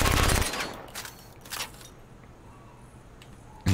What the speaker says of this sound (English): So here's a machine pistol.